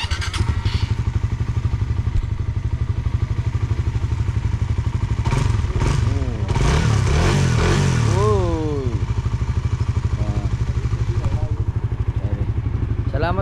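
Motorcycles are ridden on a cold day, their engines droning steadily up close with a surge of rising revs partway through, while muffled voices come and go over the ride.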